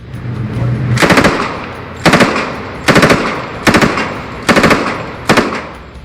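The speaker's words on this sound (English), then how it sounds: "The PPSH-41 is not just a submachine gun." A PPSh-41 submachine gun fires several loud, close bursts of rapid automatic shots, each lasting about half a second, separated by short regular pauses.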